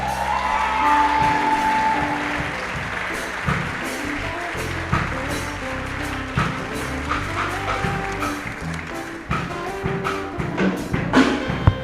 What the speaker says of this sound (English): Another round of applause for Stacy Nyambura from Kenyatta University